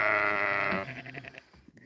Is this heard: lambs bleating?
yes